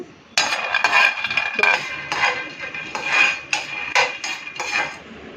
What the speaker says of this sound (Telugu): పల్లీలు వేపుకుందాము